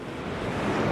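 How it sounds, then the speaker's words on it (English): Sea waves roll in on Brean Beach along the Bristol Channel, a broad close surf wash swelling slightly louder over a brief moment, mixed with wind buffeting the microphone. "the waves are rolling in"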